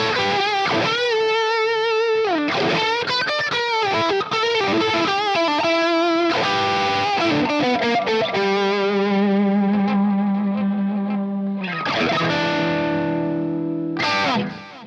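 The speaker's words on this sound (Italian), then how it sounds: "Ora sentite quanto cambia l'humbucker splittato rispetto all'humbucker puro." Electric guitar played through effects with distortion, switching between a split humbucker and a full humbucker pickup; loud, sustained chords and riffs with a brief break near the end, no talking.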